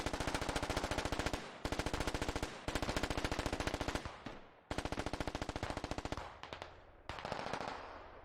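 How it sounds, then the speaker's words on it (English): Suppressing machine gun fire in the tactical shooter game Squad: long, loud, rapid automatic bursts separated by brief pauses, with a few shorter volleys near the end. "Suppressing fire."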